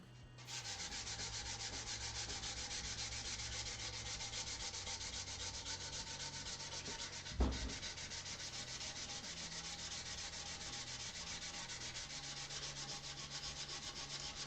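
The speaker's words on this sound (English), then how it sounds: "I am going to finish the fine sanding" Continuous rough scratching of sandpaper rubbed over wood, steady and even, with one brief thump midway; no voices.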